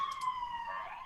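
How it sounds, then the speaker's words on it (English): An emergency siren wails at a moderate distance, its tone sliding steadily through a brief stretch with no talking. "Sorry for the sirens in my neighborhood."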